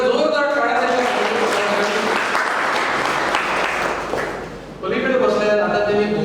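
An audience at a book launch event breaks into loud, sustained applause, a dense wash of clapping that dips briefly and then surges back, with voices audible alongside it.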